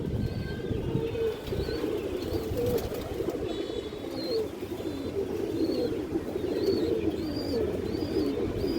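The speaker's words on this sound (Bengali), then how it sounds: "এই দেখেন বুট ঠোঁটের একটা কবুতর, কালো ঠোঁটের কবুতর" Black-beaked Gorra pigeons coo in a seller's loft, a dense, continuous low cooing close by, with a few high chirps and squeaks scattered over it and no speech.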